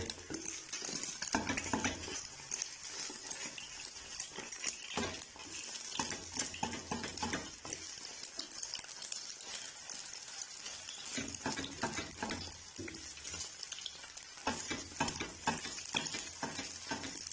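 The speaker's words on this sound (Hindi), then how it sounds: "अभी आस्ता आस्ता चम्मच की मदद से इसे जो है तोड़ लेंगे।" Metal spoon stirring and breaking up eggs frying in a pan for anda chingari, with steady soft sizzling and repeated light scraping and clinks of the spoon against the pan, fairly quiet and close, with no talking.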